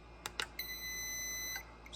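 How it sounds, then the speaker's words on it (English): Timer alarm on a homemade powder coating oven gives a few short clicks, then a single steady high-pitched electronic beep that holds for about a second, quiet and close, with no one speaking. "So that's the sound of the alarm, that you know that it's done."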